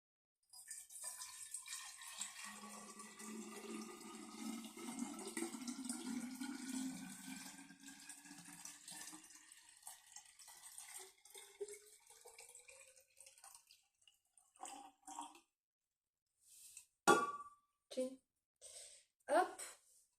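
Water trickles and splashes as it is poured out of an orchid pot, a continuous pour for several seconds that thins out, followed by a few separate drips and knocks.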